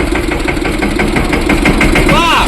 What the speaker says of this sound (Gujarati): તો ગાઈસ અમે ટ્રેક્ટરમાં ટોલી જોડી છે